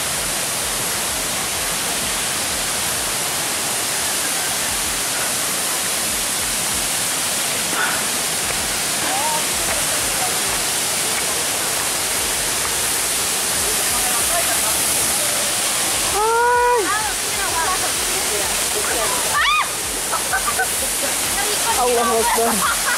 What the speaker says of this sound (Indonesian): Gemericik airnya udah kedengaran.